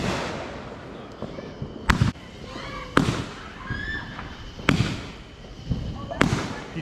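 A box of Fourth of July fireworks goes off nearby in a series of sharp loud bangs about once a second, with whistling and crackling between the blasts and people talking in the background.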